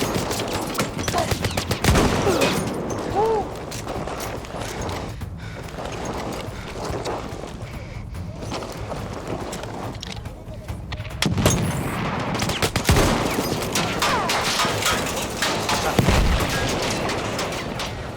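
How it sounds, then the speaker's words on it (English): Machine gun fire rattles in bursts of rapid shots with heavy, booming reports, spread over a long stretch with short pauses and some distant, echoing gunfire in between. "Take down the machine gun."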